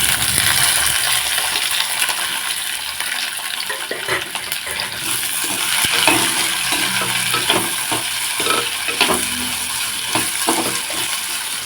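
Chopped onions go into chana dal frying in a pan: a loud, continuous hiss with scattered clicks and scraping as they are stirred in, close and steady throughout.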